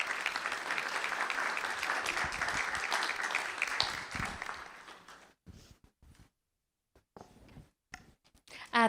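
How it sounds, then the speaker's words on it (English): Audience at a school board meeting applauds students, a full round of clapping for about five seconds that thins into scattered claps and quiet gaps before a final bump of noise. "Let's give our students a round of applause."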